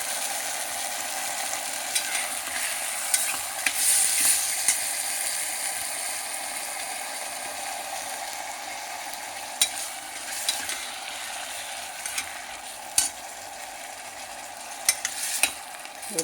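Moong dal with ginger garlic paste frying in a pan for khichdi, a steady soft sizzle with occasional sharp scrapes and clinks of a spoon stirring against the pan.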